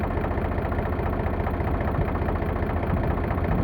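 Close, continuous idle from a sound Eicher 368 farm tractor's diesel engine: a rough, rhythmic low rumble with constant loudness and no talking over it.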